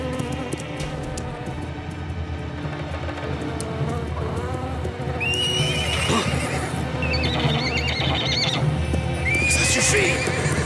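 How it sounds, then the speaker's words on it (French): Frightened horses in a cartoon neigh and whinny several times over a continuous backdrop of clip-clopping hooves and ambient sound, with shrill rising calls standing out in the second half, fairly close and loud. "Tu transmets ta peur aux autres chevaux."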